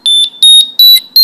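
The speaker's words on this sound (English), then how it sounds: "Okay, now it made 2 downward beeps." Metroboard Mini RC electric skateboard remote sounding loud, piercing calibration beeps, a clean run of evenly spaced, steady electronic tones right up close.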